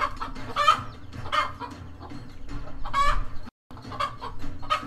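A protective mother hen guarding her chicks and ducklings gives repeated loud, close clucks and agitated squawks in uneven bursts, with a brief dropout near the end.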